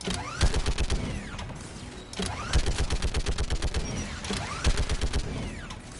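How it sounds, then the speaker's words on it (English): Turret gunfire in Mass Effect 3 during a fight against Geth: three loud, rapid bursts of heavy mechanical shots, each a dense rattling volley separated by brief pauses, close and alone. "The turret looks open for business, Commander. I'm going to use this."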